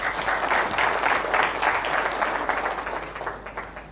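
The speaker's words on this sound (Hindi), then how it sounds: "मिस्टर अजय मल्होत्रा, मैं उनके लिए एक जोरदार तालियां चाहता हूँ" A hall audience at a speech gives sustained applause, a dense steady wash of many hands clapping together, loud and even throughout before easing slightly at the end.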